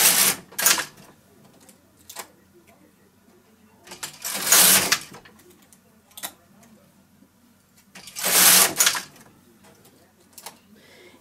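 A knitting machine carriage pulled across the needle bed while knitting double-layer slippers, producing three loud, close, clattering, rattling sweeps separated by quiet gaps.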